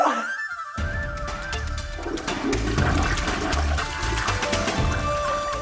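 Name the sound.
toilet flush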